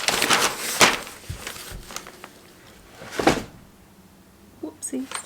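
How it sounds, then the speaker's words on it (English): A whole pile of books knocked off a desk, landing in a couple of loud, heavy thuds and clattering slaps, with a voice talking around them. "I just knocked a whole lot of books off the desk."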